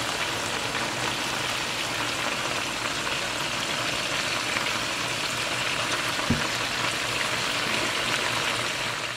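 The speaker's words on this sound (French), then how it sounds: "on va laisser ça mijoter encore" Vegetables simmer in chicken stock in a pot while fish is being prepared, a steady broadband bubbling hiss that runs unbroken throughout, with a single faint knock partway through.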